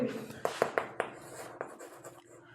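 A pen writes an answer on paper in quick scratchy strokes, a run of short taps and scrapes close by, fading toward the end.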